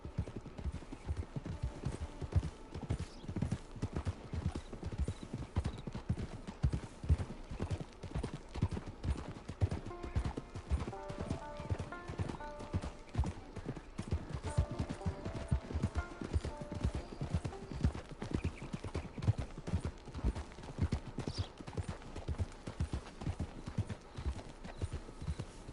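Steady clip-clop of horse hooves trotting through a Red Dead Redemption 2 game world, a continuous rhythmic beat that runs throughout, with faint tonal game music and ambience rising in the middle.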